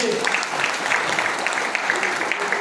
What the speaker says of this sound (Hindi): तालियां एक बार ठोक दीजिए।